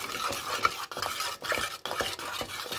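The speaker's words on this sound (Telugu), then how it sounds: "ఉండలు కట్టకుండా చక్కగా తిప్పుకుంటూనే ఉండాలి" Custard being stirred in a pot, a spoon sweeping round in regular strokes about every half second, each with a soft scraping swish against the metal, close and alone.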